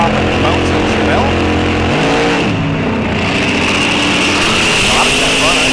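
Drag racing cars, a Pinto and a Chevelle, roar loudly and continuously at an NHRA National Open at Rock Falls Raceway, engines revving and surging while an announcer talks over the din.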